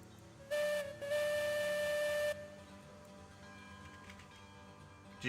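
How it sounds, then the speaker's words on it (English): A steam locomotive whistle in the Railroads Online game sounds loudly in two blasts, a short one then a longer sustained tone, before quieter game ambience with faint ticking continues. "Did you even hear the whistle that I blew right now?"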